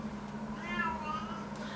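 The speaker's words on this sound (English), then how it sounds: "my cat." A house cat gives a single drawn-out meow near the middle, close and fairly clear over a low steady hum.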